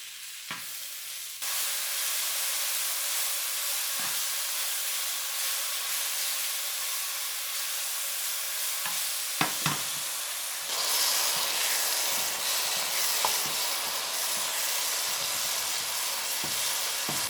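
Ten ounces of shiitake mushrooms stir-fried in oil for a spinach and mushroom stir fry, producing a continuous moderate sizzle and hiss with scattered spatula taps, louder in the second half, no voices.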